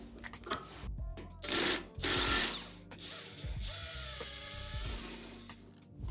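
Ratchet wrench clicking as it loosens a nut on the tie rod of a supercharged Range Rover L322, with quick ratcheting bursts and some louder rough scraping in the middle, plus faint background activity.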